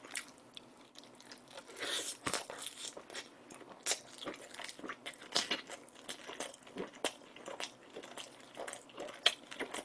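Torn pieces of Pizza Hut black pizza are bitten and chewed close up, with soft crunching and smacking mouth sounds in an irregular rhythm and no talk.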